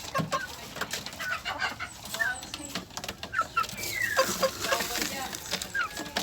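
Two roosters kept in a small backyard poultry pen, giving repeated short clucks and chirps over steady outdoor background noise, fairly close and moderately loud.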